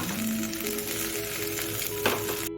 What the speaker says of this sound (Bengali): আমার মাছটা ভাজা হয়ে গেছে